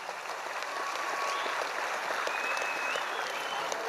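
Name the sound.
audience applause at trade union convention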